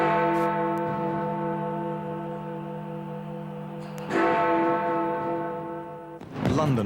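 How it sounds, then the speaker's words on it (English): Church bells ring across the United Kingdom at the new millennium, sustained tolling tones ringing out and decaying, with a fresh strike about two-thirds of the way through and a clattering burst near the end. "bells have been ringing in churches across the United Kingdom"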